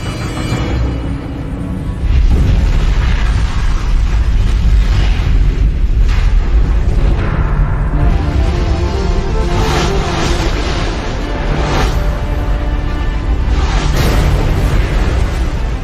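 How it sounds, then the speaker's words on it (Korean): A meteoroid blows apart after entering the atmosphere with the force of about three megatons of TNT over a city, heard as a loud, sustained roaring explosion that swells and rumbles on without a break and without voices. "마침내 유성체는 폭발하고 만다."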